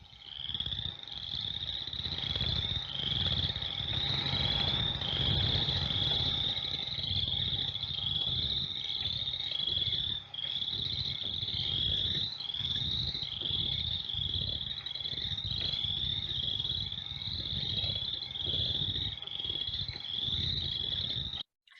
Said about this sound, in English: So what we just listened to for boreal chorus frog, that was an abundance index 1, and I'm going to play an abundance index 3.